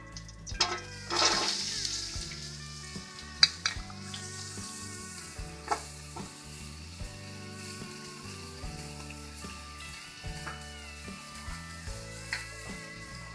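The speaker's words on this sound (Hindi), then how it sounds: "अब हम वेजिटेबल्स फ्राई करेंगे।" Quiet, continuous sizzling of chowmein vegetables, carrot and capsicum, frying in oil, with a louder burst early on and scattered light clinks of a utensil. No voices.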